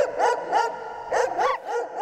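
A dog barks in short bursts, about six yips and barks spread across two seconds, close and fairly loud with no talking.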